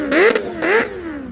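A Kawasaki H2 motorcycle at an evening bike night revs twice in quick succession, each loud rising-and-falling engine burst close by, with no talk over it.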